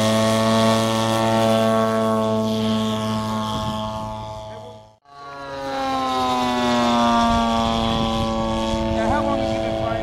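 A radio-controlled model airplane flies past outdoors at a public event in Plant City, its loud, buzzing propeller engine whining steadily, dipping briefly as it passes overhead, then rising again, with faint voices around.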